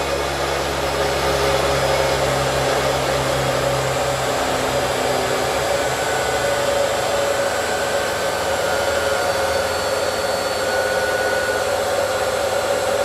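An electric machine in a power-engineering lab test bench runs steadily at about 3,500 rpm, giving a loud, continuous whirring drone with a constant pitched tone, no speech over it.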